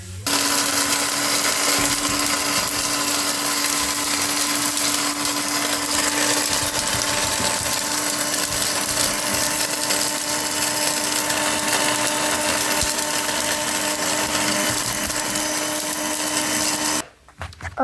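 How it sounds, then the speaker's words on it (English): A kitchen blender grinds dog food into fishing groundbait, running loud and steady for about seventeen seconds before cutting off abruptly at the end. "and turn on your blender."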